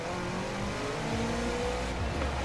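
A race car in Forza Horizon 4 accelerates off the start of an exhibition event, engine droning and rising in pitch through the gears, with other cars' engines around it.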